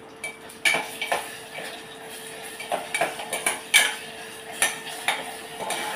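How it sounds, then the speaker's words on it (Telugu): Ginger garlic paste frying in a pan for chicken gravy, heard as irregular metallic spoon clinks and scrapes against the pan over a quiet sizzle, close and without speech. "అల్లం వెల్లుల్లి పేస్ట్, ఇప్పుడు ఇది ఫ్రై చేసుకుందాం"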